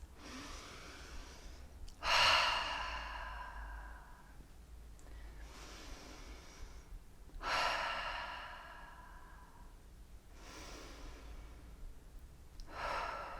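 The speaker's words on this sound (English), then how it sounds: "start off your meditation by taking 10 deep breaths" Slow deep breaths during a meditation session, three long broadband exhales spaced several seconds apart, close and clear against a quiet room with no talking.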